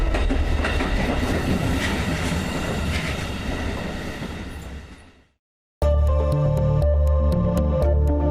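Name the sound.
train at a railway station in the Baltic states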